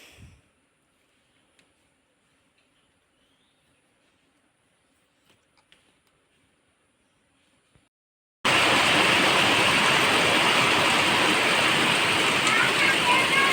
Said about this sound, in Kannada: ತೋಟದಿಂದ ಬರುವಷ್ಟರಲ್ಲಿ ಜೋರಾಗಿ ಮಳೆ ಬಂತು.